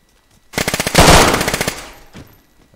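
MP7 submachine gun fire in the video game DayZ: a loud, close burst of rapid automatic shots lasting about a second, with the reports running together at the peak before a shorter trailing burst fades out, no voices.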